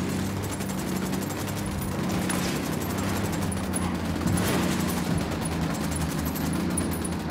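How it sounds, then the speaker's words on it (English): Sustained automatic gunfire from a Ghost Recon Wildlands firefight: dense, continuous rattling bursts with no clear gaps, steady and fairly loud throughout. "Opening fire on these fuckers."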